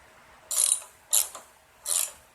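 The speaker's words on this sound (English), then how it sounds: "Reinstall your clean wheels. Then reinstall the bolts." Ratchet clicking while tightening the wheel bolts on a 2023 Craftsman M110 riding mower, three short separate bursts of sharp ratcheting, close and crisp, with quiet gaps between them.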